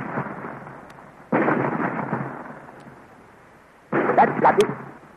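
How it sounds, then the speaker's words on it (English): Rock splitting apart under ray fire in an old sci-fi serial: a sudden loud rumbling crack that rolls on and slowly fades, then a second sharp burst of crumbling and crackling near the end. "Look, the rock is splitting."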